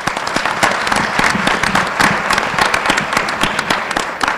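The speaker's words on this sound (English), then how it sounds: "Let's give her a round of applause." An audience at a community forum against violence claps in sustained, even applause for several seconds, with no talking over it.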